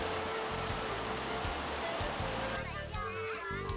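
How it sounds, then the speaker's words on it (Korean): One of eighteen waterfalls of varied size in the world's largest waterfall group in China, giving a steady, dense roar of rushing water throughout, with a low droning hum beneath and a faint higher gurgle toward the end. "와, 이 폭포가 장관이네요"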